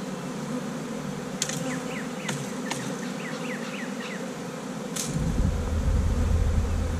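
A honeybee swarm fills the air with a dense, continuous buzz close by, a few sharp clicks and faint chirps scattered through it, the droning growing louder toward the end.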